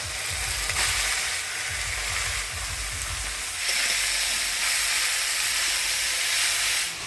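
Leafy greens and green chilies tossed into a pan with ground coriander, cumin and ginger paste, frying with loud continuous sizzling and hissing, with clattering stirring early on and a steadier steamy hiss later.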